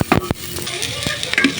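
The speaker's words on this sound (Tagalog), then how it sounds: "Maggisa muna tayo ng bawang at sibuyas lang" Garlic and onion sautéing in a pan with a soft sizzle, cut by a few sharp stirring scrapes and clinks of a utensil against the pan, close and fairly loud.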